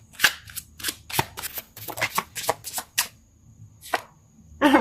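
Tarot cards being shuffled by hand, a run of sharp riffling flicks and slaps in quick uneven bursts, close and fairly loud, with pauses between and a final louder burst at the end.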